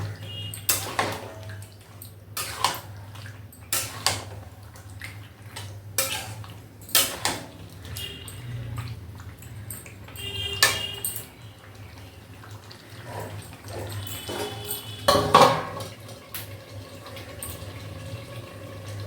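A spoon scraping and clinking in a pan while chicken rezala cooks in oil, with irregular metallic knocks over a steady low hum and no talking.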